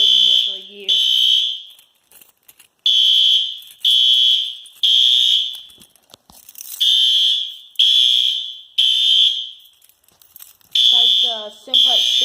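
A newly installed Simplex fire alarm system under test sounds in repeated loud electronic horn blasts, about a second each with short gaps, alongside a brief voice and some shuffling between tones.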